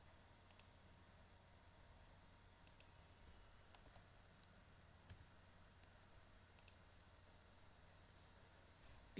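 Sparse computer mouse clicks while working in AutoCAD, single sharp clicks spaced a second or two apart over a quiet background.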